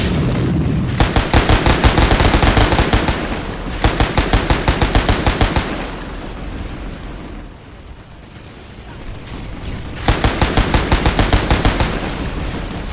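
Bursts of sustained automatic gunfire hammer loudly in a science fiction audio drama battle, three long rattling volleys separated by brief lulls of rumbling ambience.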